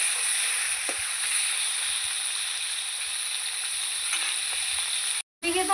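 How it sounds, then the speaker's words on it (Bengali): Chicken pieces frying in a pan for a spiced chicken curry, giving a steady, loud, continuous sizzle that holds throughout and cuts out briefly near the end. "এদিকে তো আমি মাংস ভাজা বসিয়ে দিয়েছি"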